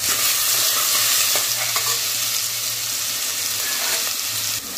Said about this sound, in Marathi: हळद, हे वाटण, त्याचबरोबर मिरची, लसूण, आलं हे परतून घ्यायचंय चांगलं